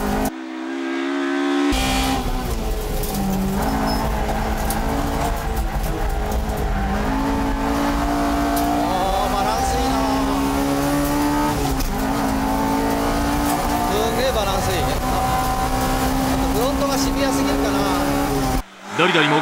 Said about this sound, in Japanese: ドリドリも好印象のなかなかのコーナリング